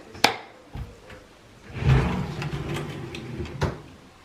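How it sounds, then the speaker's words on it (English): Kitchen pot drawers opening and closing in a house under renovation, a few short wooden knocks and slides with a longer rumbling drawer run in the middle, close and moderately loud. "These are my pot drawers."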